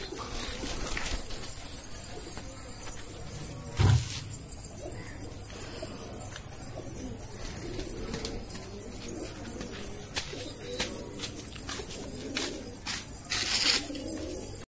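Gola pigeons in a loft keep up a low, continuous cooing close by, with occasional soft wing flutters and faint chirps.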